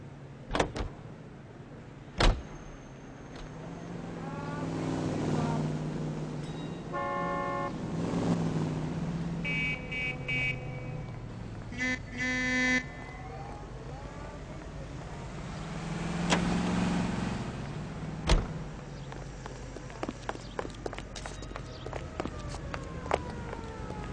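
A car driven in the game L.A. Noire, with a low engine drone and tyre rumble running throughout, sharp knocks, a few brief horn-like tones in the middle and some soft radio-style sounds, all fairly faint.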